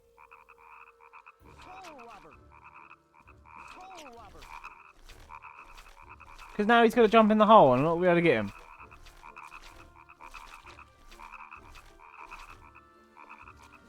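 Frogs croak in the frog-catching minigame of the video game Nightmare Before Christmas: Oogie's Revenge, with steady rhythmic croaks throughout, a louder warbling burst in the middle, and someone talking over them.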